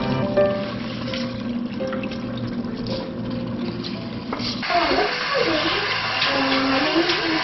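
Soaked seeraga samba rice pours into a biryani pot with a wet splashing rush, a faint steady hum underneath, and the sound grows louder and busier midway.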